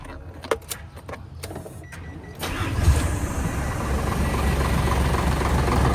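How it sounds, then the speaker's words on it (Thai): A Hino J08C truck diesel with a 210-horsepower inline injection pump cranks and fires after a couple of seconds of quiet clicks, then settles into a loud, steady, rumbling idle close by. "เดี๋ยวเรามาลองสตาร์ทเครื่องกันครับ"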